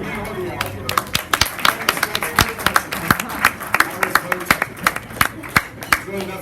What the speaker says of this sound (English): There's really nothing better for my ego than pity applause.